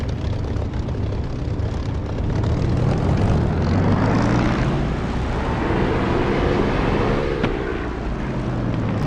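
Fighter jet engine spooling up for takeoff in the DCS flight simulator, a steady loud roar with rising tonal whine that swells through the middle and holds, with wind-like rush across the whole span.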